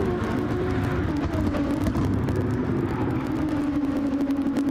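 Racing car engines in a racing video game whine in a continuous steady drone, loud and close, with a faint rumble underneath and no voices.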